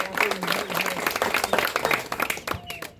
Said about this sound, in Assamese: জোৰদাৰ হাত চাপৰি এটা পুনৰ।